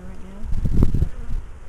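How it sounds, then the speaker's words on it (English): Honey bees buzz over a hive frame of freshly hatched brood during a summer hive inspection in Ohio, a close, low droning hum that swells in the middle of the short stretch and then eases back. "you'll see a bee every once in a while just stick its head down into a cell"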